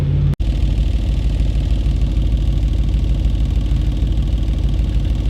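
An Audi RS4 engine idles steadily as it warms up, a loud, continuous low rumble that holds even throughout after a brief dropout at the start, with no voices over it.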